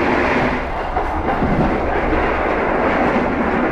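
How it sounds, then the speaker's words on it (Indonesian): Inside the Sancaka Utara passenger train on a noisy rail stretch, a loud steady rumble of wheels on track carries faint clacks throughout, without speech. "Kita sekarang melewati rel yang lumayan berisik teman-teman."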